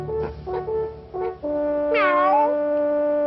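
A cartoon cat meows in a short series of chirpy calls, then gives one long drawn-out wavering meow, loud and close with no other sounds.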